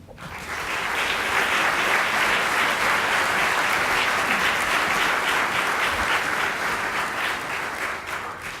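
Sustained applause fills a hall at an awards convocation ceremony, welcoming a speaker to the podium; dense steady clapping from a large audience holds at full strength for several seconds before tapering slightly at the end.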